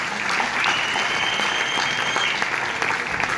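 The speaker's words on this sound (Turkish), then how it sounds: "Bu alkış az onun için." Dense, loud applause from a live audience greeting a folk singer on stage, a continuous wash of many hands clapping throughout.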